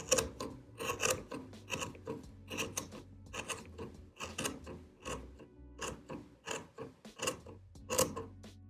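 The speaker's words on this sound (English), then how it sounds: "using sharp scissors, I go along the edge and trim them" Sharp scissors trim the yarn fringes along the edge of a knitted colorwork beanie, giving a quick run of crisp snipping cuts, close and fairly loud, in irregular bursts with no talking.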